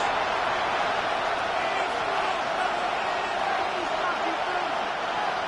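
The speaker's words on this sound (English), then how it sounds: "The crowd cranking it up another notch before 3rd and long" Stadium crowd noise in the Madden NFL 26 football game, a dense, steady roar from a big audience building late in the fourth quarter ahead of a third down, filling the background evenly without letup.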